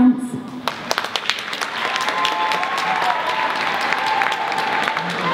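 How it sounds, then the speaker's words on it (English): An audience applauds school dancers from St. Francis of Assisi Catholic Primary School, a dense crowd clapping that starts after a brief voice and swells into steady, loud applause. "Let's have a big round of applause for all of the dancers from St. Francis of Assisi Catholic Primary School."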